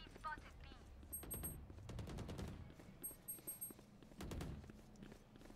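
Gunfire in the Valorant video game comes as bursts of rapid shots and a few heavier thumps, moderately loud and close, with faint talk under the action.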